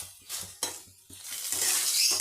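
A utensil scrapes and clinks against a pan while pennywort leaves with poppy seeds are stirred during frying, several sharp strokes giving way to a continuous close sizzle.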